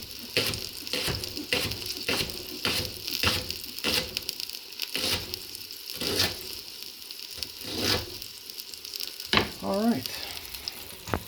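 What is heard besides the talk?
bacon frying in a pan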